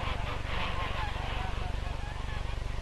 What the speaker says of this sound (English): the geese are in her way